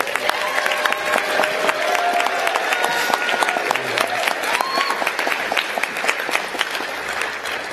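Audience applauding at a midyear graduates recognition ceremony in 2019: steady, dense clapping from a large crowd, sustained and even throughout with no break.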